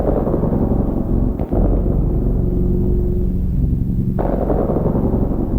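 Tape loop on a Tascam 414 cassette portastudio played back pitched down, giving a dense, steady low rumble like distant thunder with a brief dropout and thump partway through.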